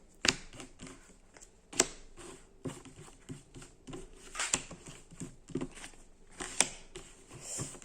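Tarot cards being drawn from a deck and laid out on a table, a series of soft irregular taps, flicks and shuffling clicks, close and quiet, with no talking.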